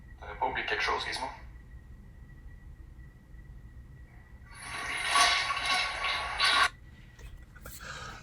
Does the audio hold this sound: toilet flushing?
yes